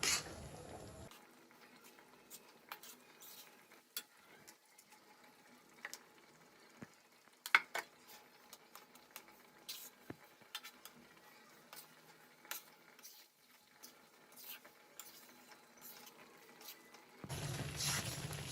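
Adadiya mixture roasting in ghee in a thick pan on a gas stove, a steady low sizzle broken by scattered scrapes and ticks of stirring, close and fairly quiet throughout with no talk.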